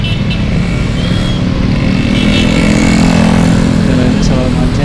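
Dense rush-hour traffic jam of cars and motorcycles on Ahmad Yani road in Indonesia, a steady loud rumble of idling and creeping engines throughout, with faint scattered background noise.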